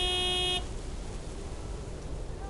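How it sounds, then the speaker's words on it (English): A big white truck's horn blares in one loud, sustained honk for about half a second, followed by low road and engine rumble. "Honk, honk!"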